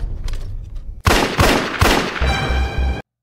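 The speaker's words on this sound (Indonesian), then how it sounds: "dia mendengar suara tembakan." Gunfire in an upstairs bedroom of a house: a quiet first second, then several loud, sharp broadband bangs in quick succession with reverberant tails, ending in a brief harsh ringing before a sudden cut to silence.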